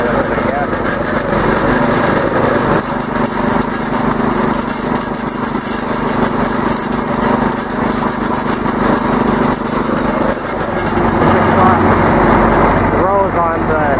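A tractor engine runs steadily in a garlic field, a loud constant drone heard close up throughout, with a voice speaking briefly over it near the end.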